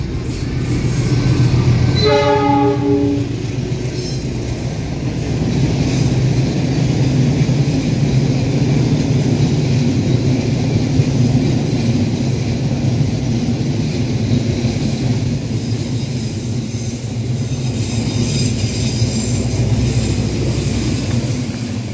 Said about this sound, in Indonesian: kereta yang harus melintas di sini